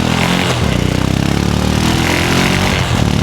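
A cold motorcycle engine runs loud and close at night, a continuous rough, throbbing revving that holds steady for a few seconds, with no talking.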